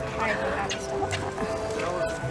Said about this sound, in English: Oh, ducks.